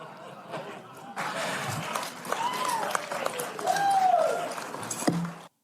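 A studio audience breaks into applause partway through, a dense rising clatter of clapping mixed with laughter and voices, swelling toward the end before cutting off abruptly.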